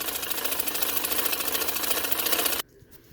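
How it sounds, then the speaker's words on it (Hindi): A sewing machine stitching along the stand-collar band of a kurti runs in a steady, fast mechanical chatter for a few seconds, then stops abruptly, leaving a quiet room. "अब पूरे पे सिलाई देती है, इसकी खूबसूरती के लिए पूरी बैन पे सिलाई देगा"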